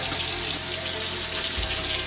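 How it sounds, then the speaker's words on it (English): Tap water runs steadily into a sink as hands are washed under the stream during home cooking, a continuous close splashing hiss with a brief heavier gush near the end. "Wash your hands real quick."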